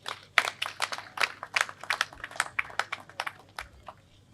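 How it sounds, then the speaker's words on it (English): Audience applause at the 60th anniversary celebration of The Gambia Radio and Television Service (GRTS): moderate, steady clapping from a crowd lasting a few seconds, fairly close and even in loudness. "I respectfully appeal to your audience to give you another round of applause"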